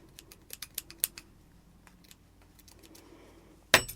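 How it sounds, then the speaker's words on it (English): Scissors snip through fluffy yarn on a crocheted polar bear plushie: a quick run of sharp, close cuts early on, a few softer snips after, then one loud final clack, with no talking. "just cut a fairly long piece of yarn from the work"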